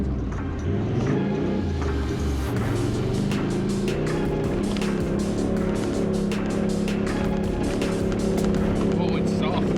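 Black four-wheel-drive truck climbing the soft sand of Big Red dune in the Simpson Desert, its engine revving hard in third gear with a loud continuous rumble and rising pitch, with a voice talking over it.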